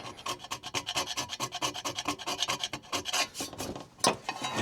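A scraper rasps a sticker off the metal bodywork of a Ford 4000 tractor in quick, repeated strokes, close and harsh, with a rapid rhythm and a louder burst near the end, no voices.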